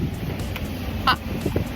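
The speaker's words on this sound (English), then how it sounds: "The wind is insane right now" Steady roar of 35-knot wind buffeting the microphone while sailing off Maui, with a brief louder gust in the middle and low rumbling throughout.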